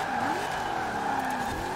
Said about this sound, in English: Drift around there.